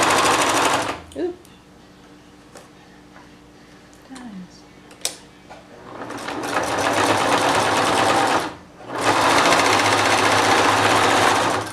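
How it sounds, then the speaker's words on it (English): A sewing machine stitches straps onto a homemade fabric face mask in loud rapid bursts, separated by quieter pauses with faint handling noises and brief speech. "I'm sewing on the other straps"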